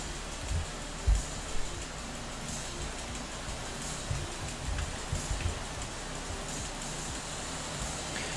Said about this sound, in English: I hope the rain noise is not getting too much